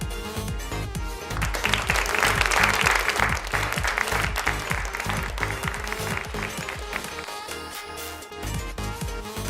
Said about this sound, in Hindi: put your hands together ladies and gentleman